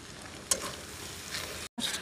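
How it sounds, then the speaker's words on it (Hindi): Tomatoes and onion frying in a pan, a continuous close hiss of sizzling with a soft spatter burst near the start and a brief cut near the end. "टमाटर और प्याज को मैंने डाल के 2 मिनट भून लिया"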